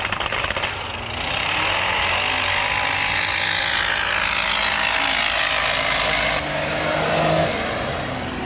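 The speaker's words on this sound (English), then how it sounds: "Luke's first run. Cummins diesel in his rig." A Cummins diesel rig roars through a snow drag race run, a loud, sustained engine drone that swells as it passes and then trails off into the distance.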